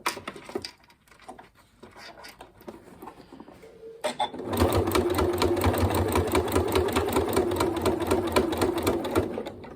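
Sewing machine stitching a quilted snack bag, starting with a few short back stitches and then running steadily in a fast, even mechanical rattle that fills the second half.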